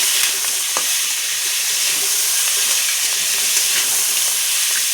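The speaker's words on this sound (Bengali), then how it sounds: "কাঁকড়াটা সুন্দর করে ভাজা করে নেব।" Crab frying in hot oil in a wok, giving a loud, continuous, close sizzling hiss with occasional small pops and crackles and no talking.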